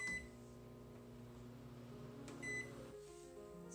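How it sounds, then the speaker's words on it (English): A microwave oven hums steadily while melting chocolate, a continuous low mains drone with faint high tones, running alone with no talk. "the next thing to do is to put this in the microwave"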